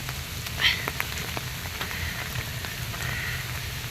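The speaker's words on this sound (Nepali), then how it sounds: "पानी रोकेको छैन।" Steady rain falls outdoors, a continuous close patter and hiss with scattered sharper drops against a constant wash of water; nothing else stands out.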